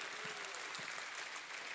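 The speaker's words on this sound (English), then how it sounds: "Somebody give God a hand clap and a shout of praise." Church congregation clapping during a Sunday morning service, a soft, distant patter of hands with a couple of low thumps, quiet and brief, no clear shouts standing out.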